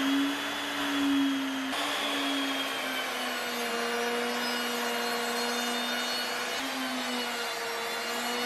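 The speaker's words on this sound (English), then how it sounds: "we're going to have to route a channel with the router around the edges of it" A router cutting a channel around the edges of a wooden tabletop for a tabletop arcade cabinet, a loud steady motor whine with a sustained high tone that dips slightly as the bit bites, running alone throughout.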